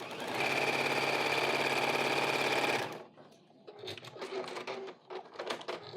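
Sewing machine stitching the last strip section onto a scrappy quilt block, a steady loud mechanical whir lasting about three seconds before it stops, followed by soft handling and rustling noises.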